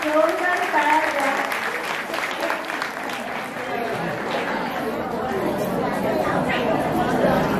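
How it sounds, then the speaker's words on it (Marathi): A crowd at a temple festival event claps in a sustained burst of applause, dense and fairly close, with chatter and voices mixed in throughout. "शाबास, सगळ्यांनी जोरदार टाळ्या द्या."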